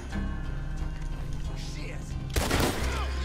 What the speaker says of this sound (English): Those are explosive rounds,